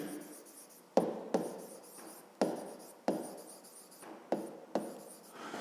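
A pen writes a number in a notebook, a series of sharp taps and short scratchy strokes close by, about eight distinct marks in uneven rhythm.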